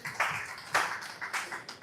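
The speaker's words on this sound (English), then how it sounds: "Let's clap for them." Scattered hands clap in an audience, a few sparse, uneven claps rising and falling rather than full applause, fairly faint.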